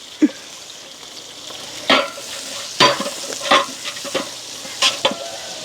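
Onions frying and stirred in a pan until golden brown for biryani, a soft continuous sizzle broken by several sharper scraping stir sounds, with no one talking.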